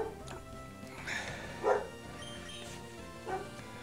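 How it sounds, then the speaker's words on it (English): A dog barks a few times at a distance, short yips spaced out over a quiet indoor background. "I'm sorry about the barking"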